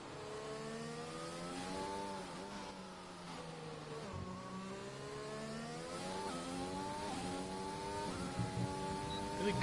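An F1 race car engine in a racing video game screams through a qualifying hot lap at Britain, holding a steady high-pitched whine that rises and dips through gear changes and corners, continuous and close.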